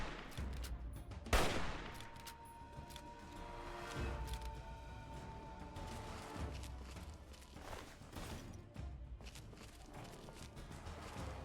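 Gunfire in the video game Fallout 3, a dense run of shots with one sharp, loud crack early on, then steady rattling bursts and scattered impacts throughout.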